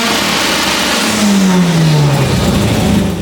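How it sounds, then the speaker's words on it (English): A high-strung rotary engine in a replica Lamborghini revs loudly at a supercar meet, its pitch sweeping down and then holding a rough, buzzing drone up close. "we had to entertain the crowd with some beautiful rotary noises"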